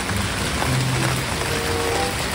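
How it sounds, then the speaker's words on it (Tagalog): Heavy rain pours down in Smoky Lake, Alberta, a dense, steady, loud hiss of drops drumming on surfaces close by, unbroken throughout with no voices. "Ulan po ngayon dito sa Canada."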